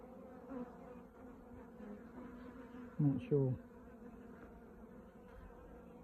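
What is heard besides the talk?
honey bees buzzing at hive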